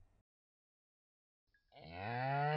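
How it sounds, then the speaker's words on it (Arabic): A cow gives a single deep, drawn-out moo that swells loud and close after a moment of near silence. "هذه بقرة ثقيلة"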